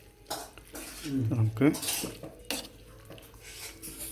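A spoon stirs Malabar biryani with pineapple in a pressure cooker pot, giving a few close metallic clinks and scrapes against the pot. A voice speaks briefly.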